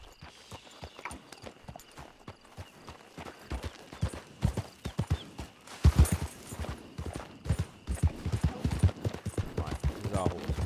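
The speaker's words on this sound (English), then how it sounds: "Right, this is our horse, first horse actually." Horse hooves clip-clop in Red Dead Redemption 2 Online, a steady close trot of hoof beats with a brief louder burst midway and soft game ambience underneath.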